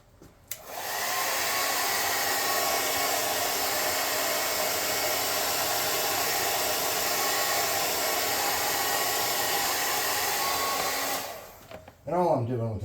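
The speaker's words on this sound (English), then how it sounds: "I'm going to hit this with a hairdryer." A hair dryer blows baking soda off a tabletop scrap-tower model, a loud steady rushing whoosh running for about ten seconds before switching off, followed by brief handling noises.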